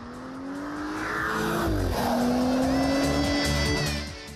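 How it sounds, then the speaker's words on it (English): An Audi A5 sports convertible roars past at speed, engine revving loudly with a rising then falling pitch and a brief tire squeal, swelling close before fading away. "the sound is a blast when the sporty A5 flashes past."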